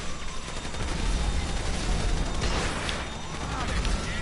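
Dense, continuous gunfire and explosive crashes from the GTA 5 Pacific Standard bank heist, loud and chaotic throughout without a break.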